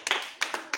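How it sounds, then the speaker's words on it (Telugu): Children clap in a classroom, a few quick, sharp claps in short bursts, close and fairly loud, with no voices. "చప్పట్లు కొట్టండి రా"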